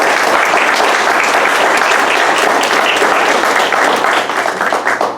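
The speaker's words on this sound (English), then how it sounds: "So please do me the honor to give him a big round of applause." Audience at a scholarship award dinner giving a loud, dense round of applause, steady clapping that holds strong and begins to thin near the end.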